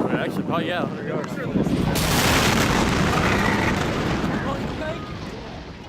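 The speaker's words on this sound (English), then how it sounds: "approximately 30 tons of the stored ammonium nitrate detonated, causing a massive explosion." A massive detonation of about 30 tons of stored ammonium nitrate at a fertilizer plant in West, Texas, heard from roughly 100 yards away as a loud, sustained roar that swells and rumbles on for several seconds after a voice speaks.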